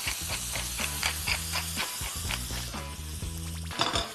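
Onions and garlic hit a hot pan with a generous glug of olive oil and fry in a loud, close, steady hiss and sizzle, with light stirring clicks and no voices.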